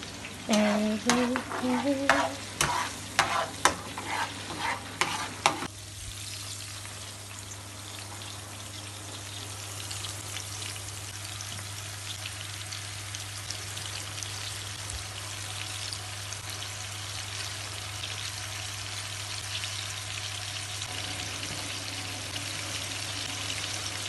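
Butter fries in oil in a pan: some clattering and stirring at first, then a steady, soft sizzle that runs on alone for about twenty seconds.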